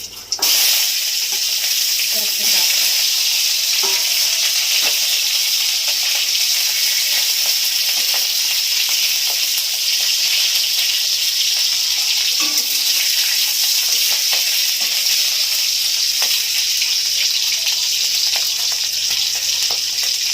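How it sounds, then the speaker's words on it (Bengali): Crabs frying in hot oil with black cumin seeds and garlic, a loud, constant close-up sizzle and hiss that holds steady, with faint stirring clinks beneath and no voices. "এবার এই কাঁকড়া কটা দিয়ে দেবো।"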